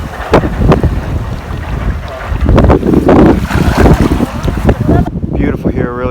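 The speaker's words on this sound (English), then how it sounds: "Beautiful here, really windy." Strong wind buffets the microphone on a powdery-sand beach on Bantayan Island, Cebu, in loud, gusty rumbles over faint surf, with a voice briefly heard near the end.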